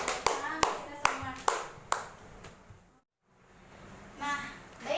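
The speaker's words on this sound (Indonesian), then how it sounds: "tepuk tangan untuk kelompok kedua" A class in an Indonesian lesson on Hajj and Umrah claps for the second group: a few sharp, scattered claps in the first two seconds, then a brief hush and murmuring voices.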